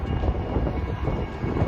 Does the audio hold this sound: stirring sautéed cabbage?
no